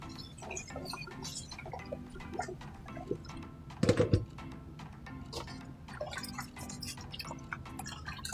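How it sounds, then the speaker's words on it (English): Rice being washed in water for Jamaican gungo peas and rice, with soft drips and light clinks of grains and water stirred in a bowl, plus a louder sloshing burst near the middle. "we're washing the rice until the water comes clear"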